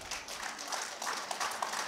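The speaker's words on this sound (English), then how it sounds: "clap for that" An audience claps at a Teachers' Day and Grandparents' Day school celebration, a steady, dense patter of many hands that holds at an even level throughout, with no voices standing out.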